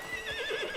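A horse in the video game Crimson Desert gives a short, clear neigh, a quick rising-and-falling whinny heard alone and fairly close.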